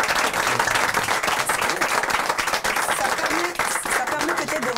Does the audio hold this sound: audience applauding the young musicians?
yes